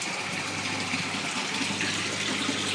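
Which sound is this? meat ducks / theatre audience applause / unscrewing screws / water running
water running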